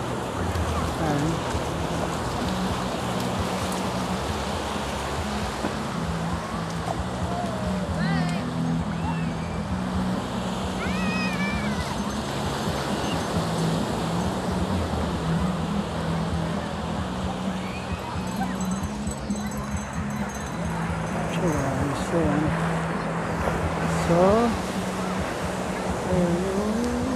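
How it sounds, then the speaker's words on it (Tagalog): Large ocean waves break at a beach in a steady, unbroken wash of surf that stays loud throughout, with a low droning hum underneath and faint voices and scattered sounds drifting in the background. "Medyo malalaki yung alon dito."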